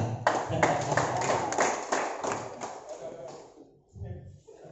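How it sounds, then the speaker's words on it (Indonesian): A seminar audience at a youth entrepreneurship event claps in a loose, uneven burst of distinct hand claps that thins out and fades, with some voices mixed in near the end. "100 tepuk tangan."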